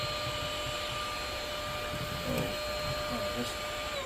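A Lotus X30 Pro cordless vacuum running on its minimum setting gives a steady, fairly quiet motor whine with a constant tonal hum, and faint rustling as it picks up debris.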